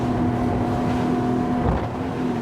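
A Highfield ADV9 motorboat runs at about 30 knots. It gives a continuous engine drone with a steady tone, mixed with wind buffeting and water rush, and no talking.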